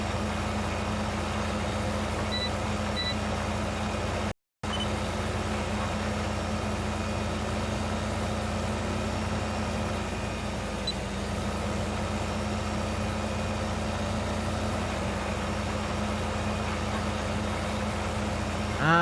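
A quad track tractor pulling a planter in Farming Simulator 15, a steady droning engine hum holding constant with faint tonal whine, broken by one brief dropout, with no talk.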